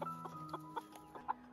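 A broody hen that has hatched goose eggs gives soft, repeated clucks, close by and quiet, spaced at short uneven intervals, with no talk.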